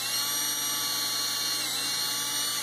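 A power drill fitted with a nail as its bit bores through a wooden picture frame, giving a loud, steady high-pitched whine that runs unbroken from start to finish with no talking.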